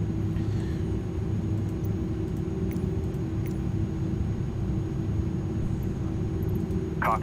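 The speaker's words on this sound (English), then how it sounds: "She's a loud aeroplane," Airbus A300 engines run in Microsoft Flight Simulator 2020, a FedEx aircraft, producing a steady low rumble and drone with a faint high whine, continuous and fairly loud, with no talking over it.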